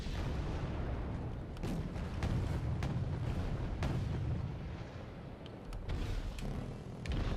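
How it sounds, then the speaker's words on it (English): Napalm strikes on tank positions in the Wargame Red Dragon game land as a run of loud, rumbling explosions. Sharp blasts punctuate a continuous low roar that fills the whole stretch. "here's dropping in some napalm, some tank positions"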